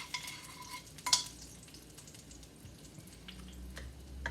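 Garlic sautés gently in oil in a pan, with a soft, faint sizzle and a couple of brief clicks and stirring touches near the start, quiet and without any talk.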